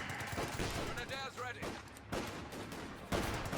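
Rifle squad gunfire in Company of Heroes 2, a dense, continuous fusillade of rifle shots that crackles steadily throughout under a commentator's voice.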